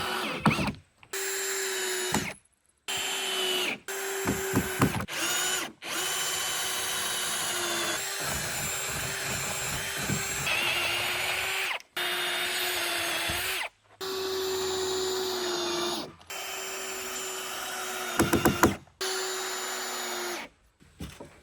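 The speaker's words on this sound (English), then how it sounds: "Katrina just finished putting the screws in and drilling the holes for the rope." A power drill bores holes and drives screws into wood while a chicken swing is built, in bursts of steady whirring separated by short pauses, loud and close.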